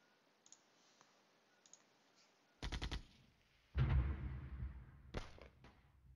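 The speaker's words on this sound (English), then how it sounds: "And the mortars fall." Mortar shells landing in the war strategy game Flashpoint Campaigns: Red Storm. A quick burst of sharp cracks comes first, then a heavy booming blast that rumbles and fades, followed by a couple more distant thuds against near silence.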